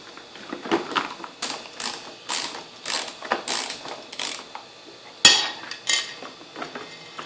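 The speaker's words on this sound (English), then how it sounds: "It's going to take a ratchet socket for that." A 1/4 inch ratchet socket being worked on a Hayward Navigator pool cleaner, with rapid bursts of metallic clicking in repeated strokes and a sharp clank partway through, close and moderately loud with no speech.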